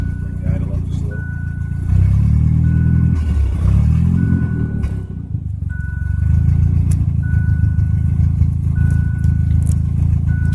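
Car engine idling and being raised a little during ECU tuning on a DIYPNP setup, a steady droning rumble with a higher whine, and people talking over it throughout.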